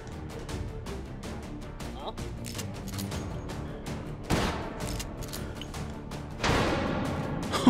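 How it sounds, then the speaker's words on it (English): A flashbang grenade goes off in the VR shooter Hot Dogs, Horseshoes & Hand Grenades, a sharp loud burst amid dense clattering gunfire and mechanical noise, followed by a second broad blast near the end. "He detonated a flashbang."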